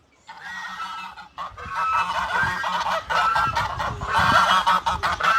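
Grown farm ducks honk loudly and close by in a rapid, overlapping series that builds and continues throughout, with no talking.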